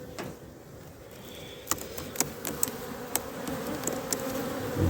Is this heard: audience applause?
no